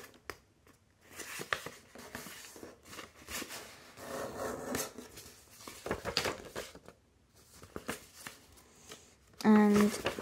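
Sheets of origami paper being creased and folded by hand for a jellyfish model, close crinkling, rubbing and sliding in irregular bursts with short pauses between, ending in a louder rustle.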